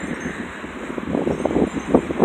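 Wind gusts through a garden outdoors, rushing and buffeting the microphone in uneven surges that grow stronger toward the end, with no speech.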